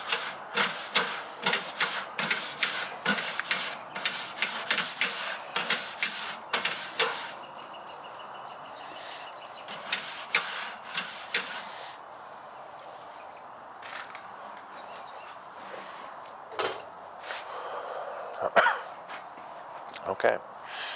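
Stiff brush scraping Kamado Joe grill grates clean: rapid, rhythmic rasping strokes in bursts, close and fairly loud, followed by a pause and then sparser, irregular scrapes and knocks.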